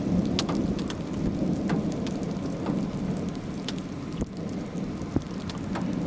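Heavy rain pours steadily on a vehicle during a storm chase near Bradshaw, Nebraska, with occasional sharp drops or cracks standing out against the constant wash and a low rumble underneath.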